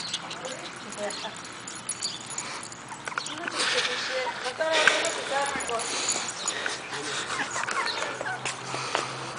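Terrier-Chihuahua mix puppies whimper and whine in thin, repeated high cries, close by, with people talking over them on a hot day.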